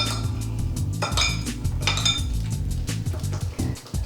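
A spoon clinks and scrapes against a bowl while a ceviche mixture of raw fish and ginger juice is stirred, the taps and metallic chinks coming in an irregular rhythm over a low steady background.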